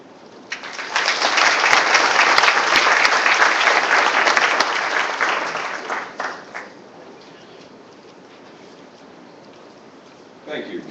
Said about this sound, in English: our sincere appreciation and applause to Who's Who